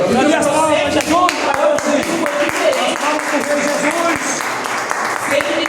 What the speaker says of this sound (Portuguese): Cadê as palmas, Jesus?